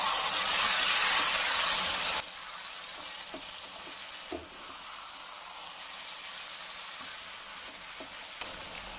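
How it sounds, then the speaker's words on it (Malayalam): Chicken sizzles and fries in a pan with green chillies, ginger and garlic, a loud hiss that drops in level partway through, then steady lower frying with soft scraping stirs and clinks. "വീണ്ടും എല്ലാം കൂടെ ഇളക്കാം."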